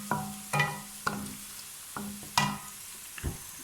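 Chopped medium onion frying in a pan until light pink, with a steady low sizzle under a handful of sharp spatula clinks and scrapes spaced irregularly, close and fairly quiet.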